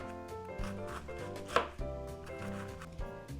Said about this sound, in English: slicing up this cabbage